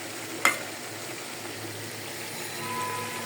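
Spice paste sautés in a pan while being cooked down: a soft, steady frying sizzle close by, with one sharp utensil clink near the start and a gentle swell toward the end.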